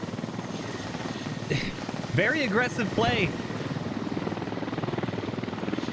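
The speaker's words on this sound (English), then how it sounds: "helicopter coming in, trying to resupply the fob." Helicopter in a military shooter game flying in to hover and resupply a forward base under fire, a steady rotor drone throughout with someone commentating over it.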